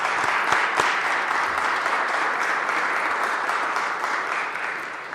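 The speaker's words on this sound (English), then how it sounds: "join me, in this huge occasion, and certainly lending a round of applause for this incredible accomplishment" A press conference audience breaks into steady, dense applause that holds loud and even, tapering slightly toward the end, with no talking over it.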